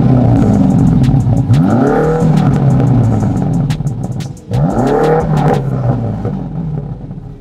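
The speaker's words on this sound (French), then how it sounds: "on peut voir un petit son moteur, enfin un petit son au niveau de l'échappement" Car engine revving hard through its exhaust at a car meet run, loud and close, with two sharp rising revs over a steady throaty idle.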